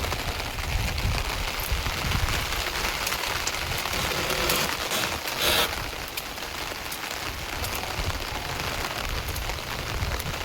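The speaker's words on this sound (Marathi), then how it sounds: "जास्त नाही पडतंय पाऊस, थोडासाच पडतोय." Steady light rain patters on surfaces throughout, a soft continuous hiss of drops with no voices.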